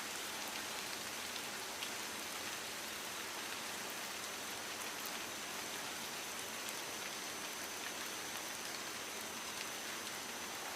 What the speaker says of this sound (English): now the rain picks up again